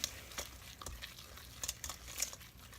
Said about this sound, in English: Get some of it, and then I can fold the blueberries in.